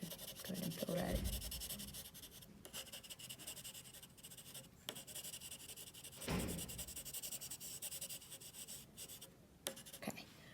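Graphite pencil shading on paper while filling in an unwanted highlight in a drawing, a soft continuous scratchy rubbing that rises in brief louder strokes, close and quiet.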